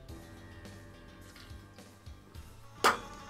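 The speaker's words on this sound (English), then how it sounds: "that's the sound of me putting it on the radiator" A single sharp metallic clink rings out as a drink can is set down on a radiator, after quiet low background hum.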